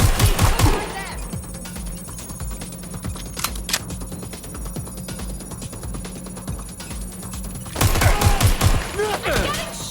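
Gunfire in Watch Dogs Legion, with rapid sharp shots crackling through a steady hiss of game ambience, a few louder cracks standing out, and speech and loud activity at the start and end.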